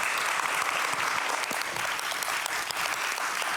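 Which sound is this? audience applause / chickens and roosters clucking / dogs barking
audience applause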